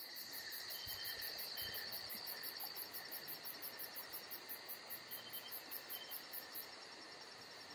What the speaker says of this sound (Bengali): ঝিঝি পোকার শব্দ আর শিয়ালের ডাকে হয়ে উঠল রহস্যময়।